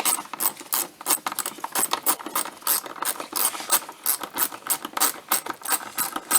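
A ratchet wrench clicks rapidly while loosening bolts on a 2006 Porsche Cayenne, close and crisp, in quick repeated bursts of ratcheting strokes without talk.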